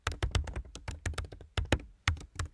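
Fingers type on a computer keyboard while coding in Sonic Pi, producing a quick irregular run of close, crisp key taps and thunks with short pauses between bursts, and no talking.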